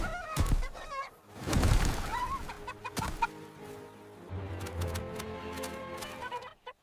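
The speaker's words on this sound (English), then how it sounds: "Cock-a-doodle-doo!" Farmyard chicken and rooster calls ring out, with clucking and a crowing cry amid thumps and background noise, loud and close, repeating in bursts across the stretch.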